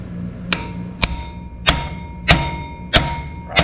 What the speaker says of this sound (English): My trusty Summit ball peen hammer.